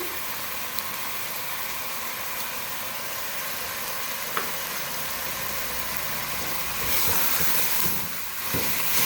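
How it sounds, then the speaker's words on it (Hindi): Onions, ginger garlic paste and chopped green chillies fry on a medium flame for chicken biryani. A loud, steady hiss runs throughout, swelling near the end with a few small pops. "प्याज को, जिंजर गार्लिक पेस्ट को हम मीडियम फ्लेम पर फ्राई करेंगे।"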